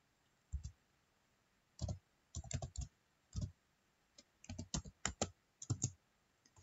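Command typed on a computer keyboard, close, crisp key clicks in short irregular bursts separated by pauses, with no talking.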